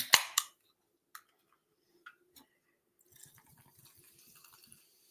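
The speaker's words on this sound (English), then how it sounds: "I'm pouring in the ice, I'm pouring in the drink" Ice cubes clink and clatter into a glass in a few sharp knocks, then a can of Punch Pop soda is poured over them with a soft, fizzy trickle close to the mic.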